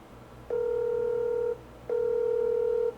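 Two steady electronic phone tones sound in sequence, each about a second long with a short gap between, over a faint background hiss.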